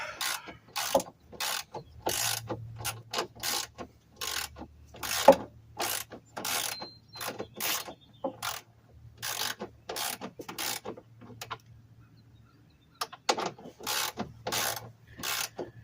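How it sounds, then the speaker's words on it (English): A Pittsburgh Pro ratchet loosens the air cleaner bolts on a Hemi Ram truck during a K&N cold air intake install, giving rapid runs of crisp clicks close up, a brief pause, then more clicking. "it's a Pittsburgh ratchet. Pittsburgh Pro."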